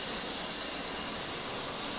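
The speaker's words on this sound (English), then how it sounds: "I'm going to motor the engine" An A-10C Warthog jet engine is motored in the DCS flight simulator, giving a steady, even whirring hiss with no change over the short stretch and no voices.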